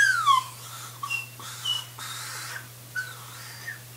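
A toy whistle blown in a few short, wavering toots separated by pauses, moderately loud over a steady low hum.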